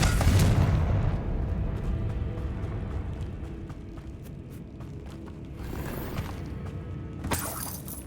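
Confringo blasting spell in the Hogwarts Legacy video game, a loud explosive boom that rumbles and fades, followed later by a shattering burst, with no talking.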